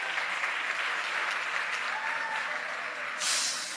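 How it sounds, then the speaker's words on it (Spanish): An audience applauds volunteers called up at a Spanish-language church service, a steady broad wash of clapping throughout that swells briefly near the end. "Un aplauso para mis voluntarios,"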